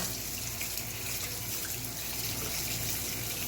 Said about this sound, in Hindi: और अब इसको अच्छी तरीके से एक एक पीस को धो के